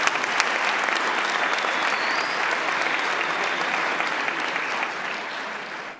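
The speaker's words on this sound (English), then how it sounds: "a thunderous round of applause to our interpreters who did a brilliant job" A thunderous round of applause from an audience at a technology launch event for people with disabilities, dense and steady clapping filling the room, fading slightly at the end.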